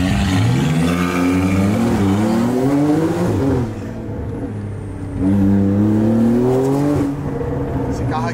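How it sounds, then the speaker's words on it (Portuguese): A car engine revs and drones loudly in rising sweeps, easing off briefly before surging again, while people talk over it. "Esse carro aqui é nervoso"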